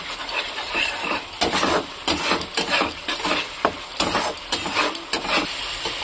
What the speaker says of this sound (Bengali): এরপরে এই পেস্ট যে মশলা বানিয়ে রেখেছিলাম সেটা আমি দিয়ে দেবো, করে ভেজে নেবো।